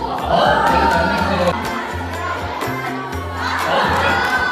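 A group of sixth-grade children at a school graduation camp cheers and shouts together in a loud, sustained burst, voices swelling and overlapping with excited yells close by.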